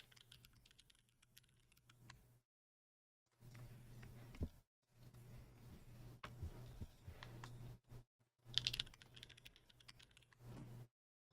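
Typing on a QK Alice Duo split keyboard fitted with Bsun Dragon switches, quiet bursts of steady keystrokes with short pauses between them, heard alone with no talking.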